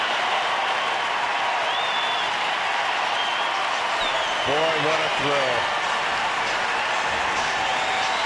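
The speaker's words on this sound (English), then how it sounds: "Look at the crowd respond to him. That's awesome. Mom and Dad up, applauding." Crowd at a Houston at Arizona major league baseball game applauding a player's first major league hit, a steady broad roar of clapping and cheering throughout, with a commentator talking over it.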